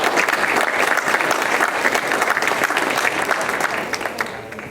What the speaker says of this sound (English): Let's give our mayor a round of applause.